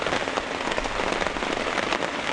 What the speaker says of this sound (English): I'm starting to get rained on through a hole somewhere. Yeah, it's coming down in buckets.